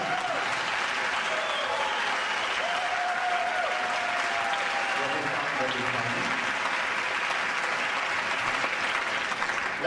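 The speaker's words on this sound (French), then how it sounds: "je voudrais aussi qu'on applaudisse la barrière" Steady audience applause fills an award ceremony at an international circus arts festival in Paris, a dense wash of clapping throughout, with a faint voice and tonal sounds drifting in beneath it.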